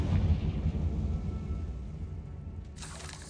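A Confringo fire-spell blast in Hogwarts Legacy rumbles loud and near with a deep sustained boom, then fades, and a sharper crackling burst follows near the end.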